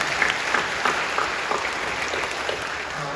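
A church congregation at Incheon Full Gospel Church in Korea claps together in a dense, steady round of applause that carries evenly through the whole few seconds.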